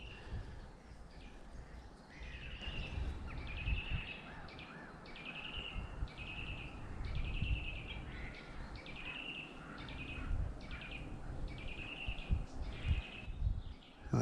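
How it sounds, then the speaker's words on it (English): On a moor by waterfalls, a bird gives repeated whistling, swooping song phrases at a steady rhythm, moderately clear over a windy, rushing background. "Don't know if you can hear that bird that's whistling, singing away."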